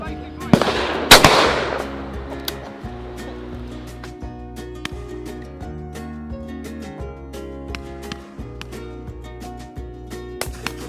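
Shotgun shots fired at driven high birds on a game shoot at Brigands: two loud, sharp blasts close together near the start, followed by a steady outdoor background with a faint tonal hum.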